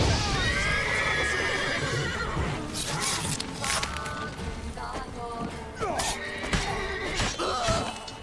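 Horses in The Witcher 3 whinny and neigh several times amid clopping hooves and game clatter, the calls close and prominent over busy background noise.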